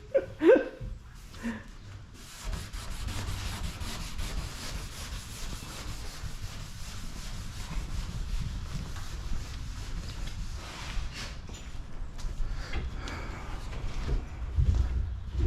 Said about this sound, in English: Wet sanding part 2.